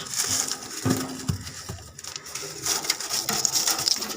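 A young pigeon chick of an expensive breed, suffering from pox around its mouth, makes soft, irregular bird-like calls amid faint rustling and handling noise at close range.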